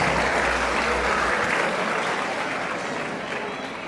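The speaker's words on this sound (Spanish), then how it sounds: "Démosle un fuerte aplauso para este hermano que viene a compartir con nosotros." A church congregation gives a loud round of applause for a visiting brother invited to share at a debate gathering, the dense clapping holding strong and tapering a little toward the end.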